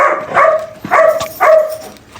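A Gultair dog, a wolf-like female among puppies for sale, barks three times in quick succession, close and loud, each bark sharp with a brief whine-like tail.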